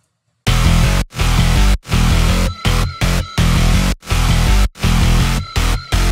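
Dense, aggressive distorted guitars layered with heavy bass and synths, playing loud rhythmic chords with short stops and stabs between phrases.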